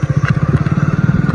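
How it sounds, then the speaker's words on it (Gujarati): A tractor engine throbs steadily and close by in a rural village near Jamnagar, with a fast regular chugging pulse that holds throughout. "ભૂરા ટ્રેક્ટર આવે છે"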